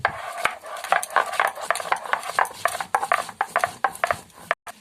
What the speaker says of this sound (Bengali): এবার এই লঙ্কাগুলো বেটে নেব